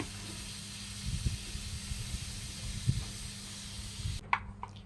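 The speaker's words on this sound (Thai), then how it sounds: "ย่างไปก่อนนะครับ" A steady hiss of octopus sizzling on a grill, with a few soft pops and crackles rising above the constant frying noise.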